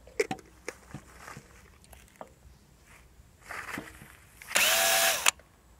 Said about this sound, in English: we're going to drill this hole.